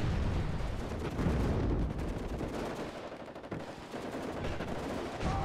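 Submachine gun and machine gun fire in the war strategy video game WARNO, dense continuous rattling bursts overlapping with heavier booms, loud and sustained with no pauses.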